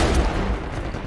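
Gunfire from Uncharted 4 lands a headshot, a loud, close, booming shot whose heavy low rumble decays over about a second.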